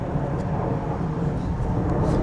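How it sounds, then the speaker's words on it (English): Jet planes taking off from nearby JFK Airport roar low and steady overhead in the Rockaways, New York City, a continuous distant rumble that swells slightly toward the end. "you got to hear the planes taking off because JFK Airport's not that far from here"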